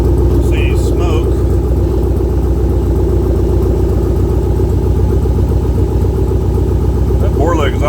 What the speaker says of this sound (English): That Borla exhaust does sound pretty good.